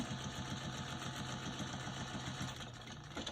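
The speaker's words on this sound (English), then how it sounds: "So I'm making sure that all my seam allowances are under where I'm sewing." A sewing machine stitches a seam on a crossbody bag, running in a steady, rapid mechanical rhythm that stays close and fairly quiet, with no talking.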